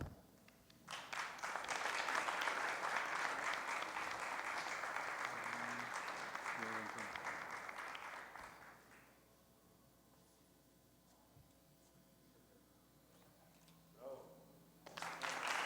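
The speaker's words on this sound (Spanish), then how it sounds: "Un fuerte aplauso, por favor." An audience at a book presentation and keynote lecture breaks into loud, sustained applause lasting about eight seconds, then fades to near quiet before a fresh burst of clapping begins at the end.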